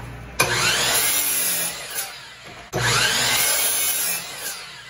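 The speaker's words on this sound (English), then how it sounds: "the 8 foot board, just cut it right in the center" A power saw cuts an 8-foot wooden board through the center in two long, loud passes, each starting with a sharp onset, holding a steady whining cut, then dropping off.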